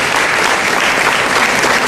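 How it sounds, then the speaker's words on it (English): Audience applause for a speaker walking on stage at a career fair talk: a dense, loud burst of continuous clapping from a crowd, with no gaps or voices. "Let's clap for him as he comes to stage."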